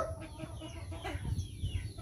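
Free-range village chickens kept in a backyard coop behind a house, clucking and murmuring close by in a steady, continuous chatter with no talk.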